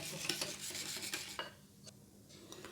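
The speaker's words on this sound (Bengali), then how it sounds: "আবার ভালো করে সব মিশিয়ে নেব।" Burhani, a spiced yogurt drink with jaljira powder and chaat masala, is stirred in a vessel, producing a quick run of close scraping and clinking strokes that stop halfway, leaving near silence.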